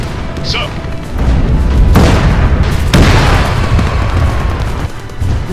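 Tank cannon fire in a war video game set in a Chinese and North Korean invasion of South Korea, with heavy booming blasts over a continuous rumbling battle bed, loud and close.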